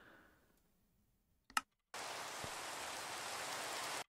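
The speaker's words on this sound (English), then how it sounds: "The rain in general is just loud." Rain in Minecraft hisses loudly and steadily for a couple of seconds after a brief click, then stops abruptly.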